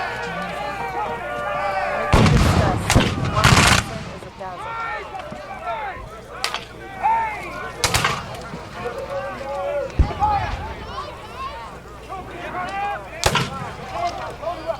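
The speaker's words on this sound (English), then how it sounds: "Orders to give it for independent fire. Now each man's on his own. Load and fire, load and fire." Civil War reenactors at the 160th Battle of Gettysburg reenactment firing muskets independently, with several loud, sharp cracks spread unevenly over the field, some clustered close together, under someone narrating and crowd noise.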